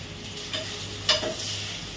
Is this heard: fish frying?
yes